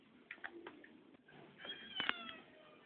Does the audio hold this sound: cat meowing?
yes